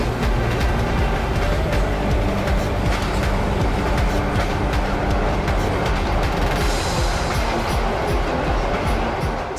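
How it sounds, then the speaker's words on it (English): Train ride in Vietnam toward the coastal town of Halong, a loud continuous rattling rumble of carriages on the rails with clattering rhythmic knocks, heard from inside the moving train. "This is a proper train ride right here"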